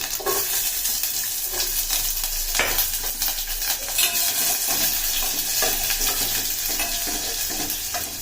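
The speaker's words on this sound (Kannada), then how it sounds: "ಕರಿಬೇವು ಹಾಕ್ತಾ ಇದ್ದೀನಿ ಜೊತೆಗೆ ನೋಡಿ ಈರುಳ್ಳಿ" Onions and curry leaves fry in a pan for a vegetable dish, giving a loud, steady sizzle with scraping and clinks of stirring throughout and no speech.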